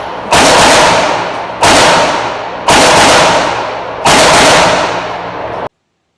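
Four loud gunshots from pistols such as a MAC9 at an outdoor shooting range, evenly spaced about a second and a half apart, each a sharp crack with a long ringing decay, ending abruptly.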